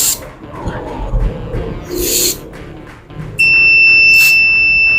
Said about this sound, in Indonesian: apabila di sekitar produk model ini terdapat kebocoran gas, maka secara otomatis sistem akan membunyikan alarm